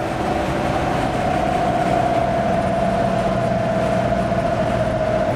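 Constant loud rumbling road noise inside an off-road vehicle moving on a motorway, a steady drone with a faint tonal hum and no voices.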